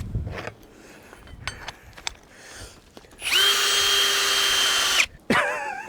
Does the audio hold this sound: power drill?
yes